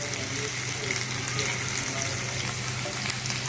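Onions, ginger and garlic frying in hot mustard oil for an Assamese-style local chicken curry, a loud, steady close-up sizzle with faint stirring crackles.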